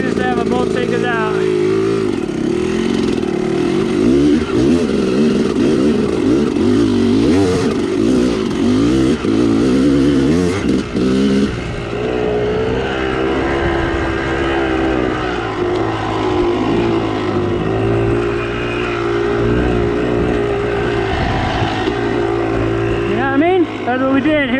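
A motorcycle engine runs loud and steady throughout a ride, droning with shifting pitch as it revs, while people talk over it.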